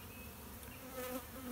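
A steady, close buzzing of queenless bees at a hive, a dense insect drone with a slight swell in loudness near the end.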